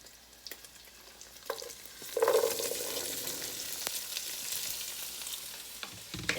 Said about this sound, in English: So I'm going to go ahead and put the green beans into the pan.